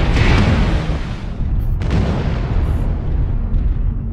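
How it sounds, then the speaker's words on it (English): Artillery strike explosions in a MechWarrior-style combat video game: dense, continuous low rumbling booms that overlap into a sustained loud roar, with a sharper burst near the start and another around the midpoint. "Artillery strike."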